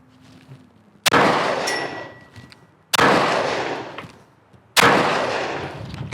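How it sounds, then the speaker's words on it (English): Three loud, sharp pistol shots fired at a 7-yard range, spaced roughly two seconds apart, each one ringing out with a long decaying echo. "That was 3 shots."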